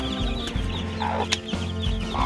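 Native (deshi) chickens and young chicks cluck close by, giving short repeated clucks and brief peeps over a steady low hum, with no talking.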